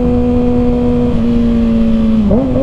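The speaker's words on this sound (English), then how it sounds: "Let me rev it up under this little overpass." 2021 Kawasaki Ninja ZX6R KRT Edition with its exhaust baffle removed, engine droning loud and steady at a constant pitch while riding at night, rising briefly near the end as the throttle opens under an overpass.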